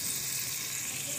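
Onions frying and browning in a pot give off a constant, close, hissing sizzle that stays steady and bright for the whole brief moment.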